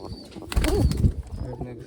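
A black pigeon coos close by, a soft rolling call in the middle of the clip, with a quieter bird sound and light background noise around it.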